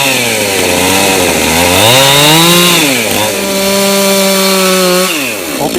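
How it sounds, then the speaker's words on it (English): A loud chainsaw revs and bogs as it cuts through an old barn rafter, pitch rising and dipping with the load, close and continuous. "If he's gonna chainsaw,"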